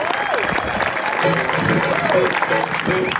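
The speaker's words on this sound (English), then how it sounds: "how about a round of applause for that?" Enthusiastic clapping rises from an audience honoring a Navy Band sailor's award, mixed with cheers and voices calling out over the steady applause.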